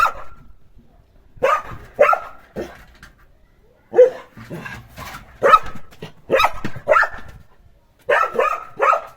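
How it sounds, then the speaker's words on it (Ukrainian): A dog barks in repeated short, loud bursts near a wooden kennel that is being repaired, with brief pauses between the volleys. "А гавкає він завжди."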